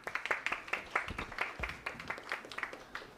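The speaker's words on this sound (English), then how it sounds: "we'll give you a round of applause" A small audience applauds a quiz team at a medical college quiz, with distinct, fairly close individual claps in an uneven rhythm throughout.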